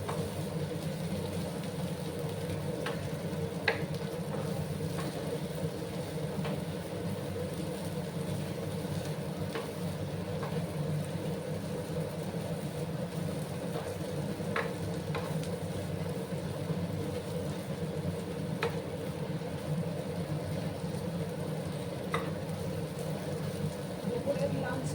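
Long beans frying down in a pan over a gas flame, giving a steady, even sizzle that holds at a moderate level throughout with no break and no talk.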